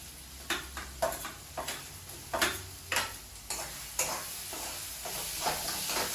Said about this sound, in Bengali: আলুটা দিয়ে নাড়াচাড়া করবো